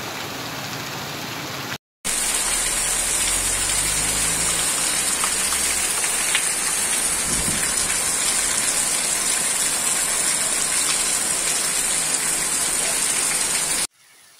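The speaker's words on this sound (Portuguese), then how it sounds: "chuva no meu Maranhão, muita chuva" Heavy rain in the Brazilian sertão pours down steadily in a dense, continuous hiss, loud and close, with a brief silent gap near the start and at the end.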